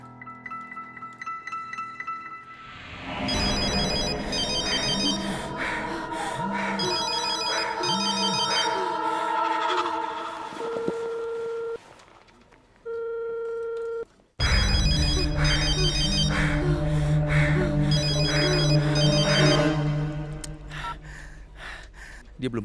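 A telephone rings and goes unanswered, repeating electronic ring bursts over a loud, tense dramatic music score, with a short pause before the ringing and music resume louder.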